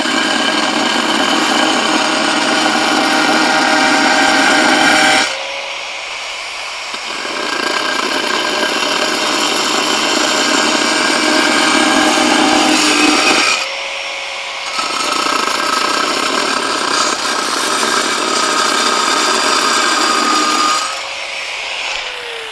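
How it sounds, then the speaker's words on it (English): Cheap diamond-tipped blade on a power tool cutting very old roof tiles, a loud continuous grinding whine in three long passes separated by brief pauses. "Okay, I'm having to cut some pieces for this roof tile job I'm doing. So I'm using a diamond tip blade."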